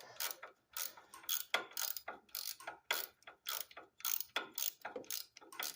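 A socket wrench ratchets on a Briggs and Stratton 875 series engine, giving quick bursts of sharp clicking strokes, one after another in a steady back-and-forth rhythm, close and clear with no talk.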